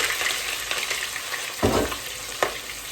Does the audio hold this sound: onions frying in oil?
yes